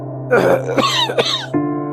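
A person clears their throat and coughs several times, close and loud, in short rough bursts, with a steady low hum underneath.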